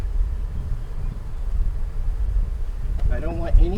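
Bees buzzing during a homestead honey harvest: a low, wavering drone under wind-like rumble, with a higher, clearer buzz weaving in near the end.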